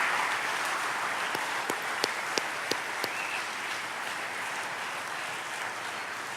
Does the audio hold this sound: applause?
yes